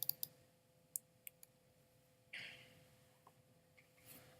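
A computer mouse is double-clicked to open Adobe Photoshop CS6. A few quick, faint clicks come in small pairs against a quiet room hum, with a soft rustle partway through.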